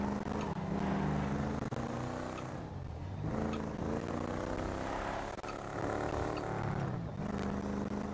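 A car engine drones steadily in GTA 5 with real-life mods, a continuous rumbling hum that swells and eases slightly as the car is driven.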